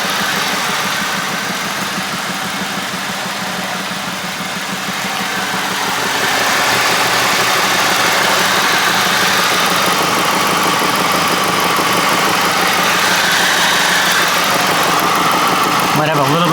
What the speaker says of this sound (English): Might have a little bit of an exhaust leak back there.